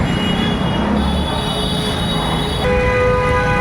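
A train at Hazrat Nizamuddin railway station in Delhi gives a steady, loud rumble of rolling stock. Sustained tonal hums sharpen near the end, with no voices over it.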